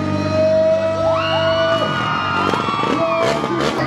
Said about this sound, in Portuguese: Faz barulho, solta o grito.